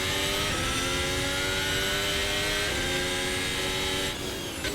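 A Formula 1 car engine in Assetto Corsa, on the Algarve circuit for the Portuguese Grand Prix, screams steadily at high revs, with rising tones broken by quick gear shifts. It is heard alone, without talk.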